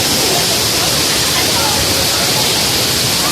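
Tagbibinta Falls in Maragusan, Davao de Oro, pours with a loud, steady, close-up roar of rushing water, an unbroken dense hiss filling the whole stretch without pause.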